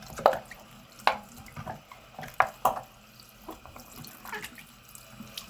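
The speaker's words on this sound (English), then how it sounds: "I'm gonna switch the water to hot" Hot water running from a tap in a sink while fidget toys are washed: a steady, quiet splashing stream with several sharp drips and knocks scattered through it, close and without talk.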